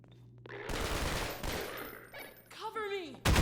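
Rapid bursts of pulse rifle fire in Half-Life 2, a dense automatic rattle lasting a couple of seconds, followed by whooshing energy effects and a loud impact at the end.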